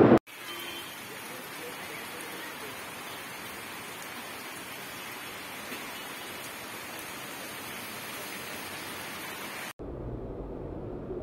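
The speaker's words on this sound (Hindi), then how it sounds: "ये बहुत जोर की बारिश आ गई है यार," Heavy rain pours down in a loud, steady hiss that fills the scene, then cuts off abruptly near the end.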